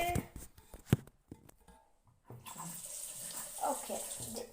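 A bathroom tap is turned on after a few scattered clicks and knocks, then water runs in a steady, moderately loud hiss into the basin.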